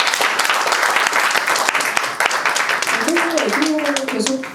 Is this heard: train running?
no